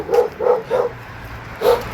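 A dog barks nearby in Europe, giving four loud, sharp barks: three in quick succession, then a pause and one more, with no talk.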